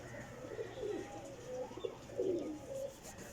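Breeder pairs of pigeons, red-eyed golden birds in a loft, coo softly in repeated low murmuring phrases, several birds overlapping at moderate distance over a steady background hum.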